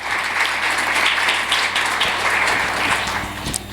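An audience at a community engagement summit claps for a research panel, a full round of steady applause with distinct individual claps, easing off toward the end.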